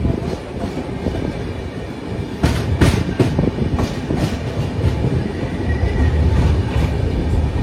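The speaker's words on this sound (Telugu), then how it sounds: "మన ట్రైన్ క్రూజింగ్ స్పీడ్ మామూలుగా లేదు, 130 km/h కొడుతున్నారు." Jan Shatabdi Express train cruising at about 130 km/h, heard from inside a carriage: a constant rushing roar with repeated rhythmic clatter of wheels over rail joints, no voices.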